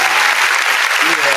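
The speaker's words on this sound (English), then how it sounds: "Can I get a clap or something for it?" Studio audience applause on a morning radio-style show, a steady dense clapping wash heard up close and alone for a brief moment.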